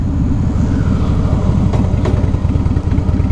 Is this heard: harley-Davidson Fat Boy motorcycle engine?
yes